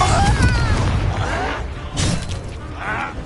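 The Confringo blasting spell in Hogwarts Legacy bursts as booming explosions amid dense combat noise, one strong blast midway and softer crackling impacts around it.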